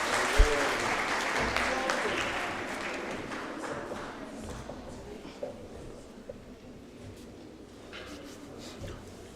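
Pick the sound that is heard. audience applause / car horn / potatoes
audience applause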